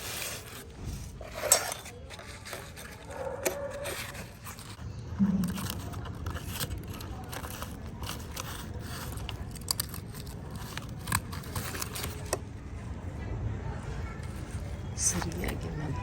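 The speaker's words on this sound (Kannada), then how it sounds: "ಕವರ್ ಕಟ್ ಮಾಡಿಬಿಟ್ಟು" Scissors snip through a plastic plant nursery cover while a potted plant is being readied, with close, quiet crinkly cuts and rustling. Occasional speech is heard.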